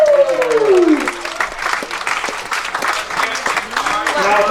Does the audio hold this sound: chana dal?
no